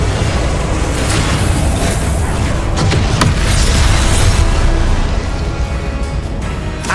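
Loud, dense blasts from the Confringo fire spell in Hogwarts Legacy, booming one after another with barely a pause, forming a continuous roar of explosive rumble throughout.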